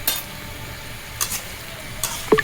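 Potatoes and eggplant sauté in spices in a pan, a soft low frying hiss broken by a few sharp stirring scrapes and utensil clinks against the pan, close and intermittent with no talk.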